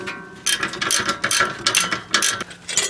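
A ratchet on a long extension tightens an exhaust flange bolt, a run of quick rasping clicks in short bursts with brief pauses, close and fairly loud with no talk.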